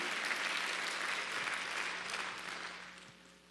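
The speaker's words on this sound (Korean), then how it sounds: "박수 한번 더 해주세요." Congregation applause during a Sunday church service, a full, even roar of many people clapping that holds steady and then gradually fades out near the end, with no speech over it.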